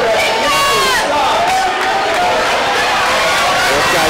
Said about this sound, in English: the crowd screams out encouraging for both of them